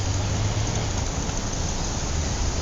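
Steady rain falls outside a building's grand main entrance, a continuous dense hiss of drops with no breaks or other sounds.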